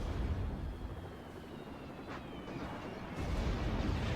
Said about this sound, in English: Artillery turret here.